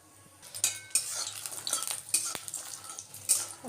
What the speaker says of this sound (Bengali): একটু বড়িগুলো ভেজে নিই